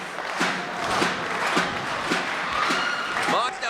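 Wrestling arena crowd cheering and applauding for Jon Moxley, a dense steady roar with rhythmic chant-like pulses and clapping, with a commentator's voice running over it.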